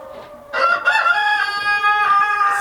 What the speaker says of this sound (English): Oh, look at that stupid chicken.